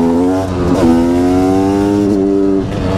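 A motorcycle engine runs loud and close, holding a steady drone that stutters and judders briefly twice before steadying again, with no voices over it.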